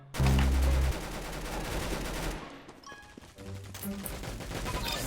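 Roblox gunfire bursts out loudly in rapid shots at the start, then continues in scattered, quieter volleys with other game sounds while a player talks in Thai.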